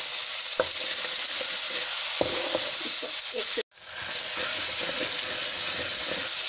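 Masala with crushed chili and salt fries in a pan for sarson ka saag, a steady bright sizzle broken by occasional stirring scrapes and a brief cut to near silence midway.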